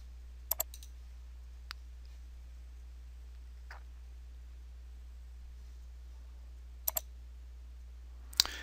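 A computer mouse clicking while working in Revit, a few faint sharp clicks, some in quick pairs, spread over a quiet low hum.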